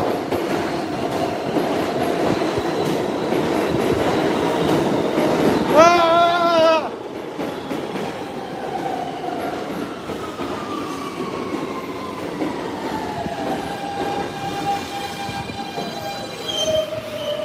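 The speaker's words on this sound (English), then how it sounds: "Good, train's coming. Let's get on." A train rolls in loudly and close by, wheels squealing and rumbling over the rails, with a sharp high-pitched screech partway through.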